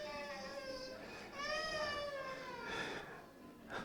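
A baby in the audience at a book launch cries in drawn-out, wavering wails that rise and fall, fairly faint, against a quiet room murmur.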